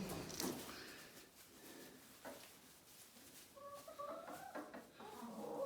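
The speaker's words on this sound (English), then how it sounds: "Very happy chickens." Chickens cluck softly nearby in their coop, scattered murmurs and short calls over a quiet background.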